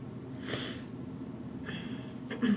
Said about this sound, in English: Sorry I keep on sniffling.